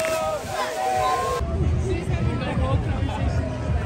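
Crowd chatter at a Butler Bulldogs football game at the Sellick Bowl, a dense murmur of many overlapping voices around a nearby listener, steady and moderately loud throughout.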